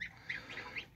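Several geese honk in a quick series of nasal calls, fairly close and moderately loud.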